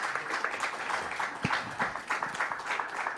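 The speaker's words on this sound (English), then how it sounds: "could you join me in giving the panelists a sound round of applause?" A summit audience gives the panelists a round of applause, moderately loud clapping with distinct individual claps rippling through the room.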